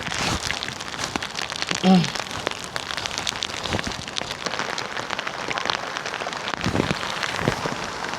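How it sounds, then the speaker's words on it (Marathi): Heavy rain pounds steadily on a surface in the Konkan region of India, a dense continuous patter with a brief voice in the middle. "लय मोठा पाऊस आलेला आहे मित्रांनो, लय मोठा पाऊस."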